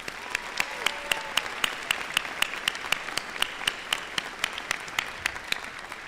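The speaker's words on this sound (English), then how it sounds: "Please join me in showing our appreciation one more time with a round of applause" Audience applause at a Washburn Tech commencement ceremony: distant, diffuse clapping with regular sharp claps standing out, moderately quiet and continuous.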